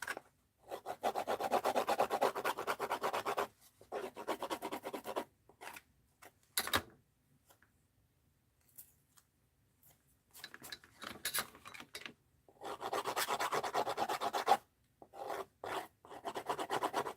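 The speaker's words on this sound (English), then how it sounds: "I need to sand this." Worn tip of a craft blade being sanded for mixed-media art journaling, with close, quiet rasping strokes in irregular bursts separated by short pauses.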